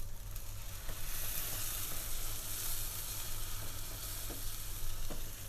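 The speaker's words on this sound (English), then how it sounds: "we're going to saute the tomato paste with the onions" Onions and tomato paste sauté in a pan for a vegetarian Greek soutzoukakia sauce, a steady close sizzle and crackle with a few soft stirring scrapes and no talk.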